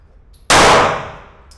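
A single sharp, loud gunshot from a Luger pistol, with a long ringing decay after it. The shot is close and heard alone, without talk.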